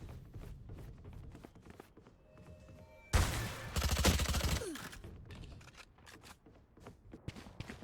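Submachine gun fire in the tactical shooter VALORANT comes as a sudden, loud, rapid burst lasting under two seconds, set among quieter in-game footsteps and small clicks.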